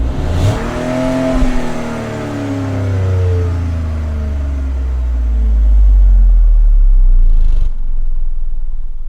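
A Peugeot 2008 Allure engine in a video game revs repeatedly, rising and falling in pitch with a deep rumbling roar, loud and close, with no talking.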